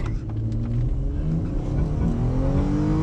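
A powerful Lamborghini sports car engine roars as it accelerates hard, the revs climbing steadily, loud and close with a deep rumbling growl.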